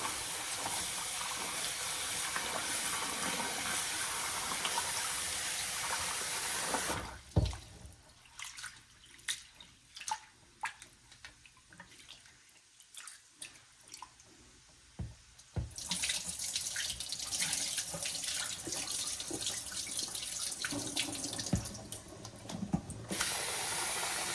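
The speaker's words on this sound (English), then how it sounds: "I'm just going to go ahead and wash the rice." Tap water runs loudly into a sink as rice is washed for a Jamaican ackee seasoned rice, pausing midway for a quieter stretch of drips and rinsing clatter before the stream resumes at full force.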